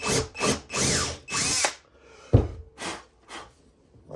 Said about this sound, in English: when I put the big drill in it